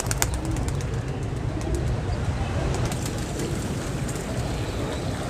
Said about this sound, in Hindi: ये भी अच्छा कबूतर।